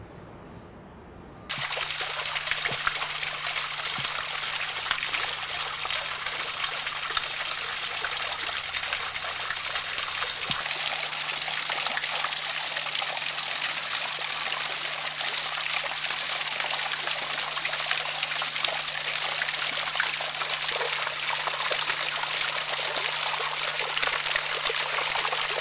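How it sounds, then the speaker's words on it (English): Water spills steadily over a built tropical waterfall into small pools, a loud, continuous close-up rush and trickle that starts abruptly after a quiet moment, with a low pump hum underneath and no voices. "Now we have water pouring into the small ones, coming over the main one, and no spraying or anything."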